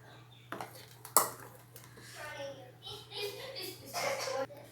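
Curd is stirred into Kerala-style pineapple pulissery in a pot, giving close metal spoon clanks and scraping against the vessel, one sharp clang early on, with someone speaking throughout.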